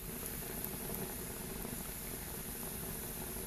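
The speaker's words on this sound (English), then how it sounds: "You can hear the sizzling sound" Wet, water-laden wood burning in a rocket stove gives a steady, dense crackling sizzle and hiss with a low roaring rumble beneath, continuous and fairly loud throughout.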